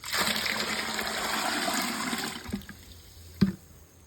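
Water is poured into a bucket of vegetable-waste fertilizer, a broad rushing splash that runs for a couple of seconds, then tapers off into a few sharp clunks.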